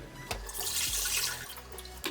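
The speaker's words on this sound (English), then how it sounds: "So you dump the water in first, your 2 pounds of water" Water pours from a container into a slow cooker as a steady splashing stream that lasts nearly two seconds, with a soft knock at the start and end.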